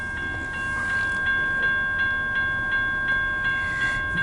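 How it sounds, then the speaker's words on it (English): A CN long-haul mixed freight manifest train slows to a halt: a loud, steady metallic squeal from its wagons, with regular clunks repeating under it and no voices. "The train car's stopping."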